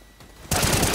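Gunfire in the video game CS:GO sounds as a sudden loud automatic burst that cuts in halfway through, after a quieter stretch of game ambience.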